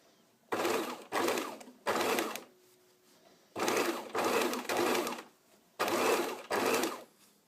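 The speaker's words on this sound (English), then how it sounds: "Sew right up to the pins before you pull them out." A sewing machine stitches the neckline and armhole of a garment in close, loud bursts of rapid needle whirring, each lasting about half a second, in two or three grouped runs separated by short pauses.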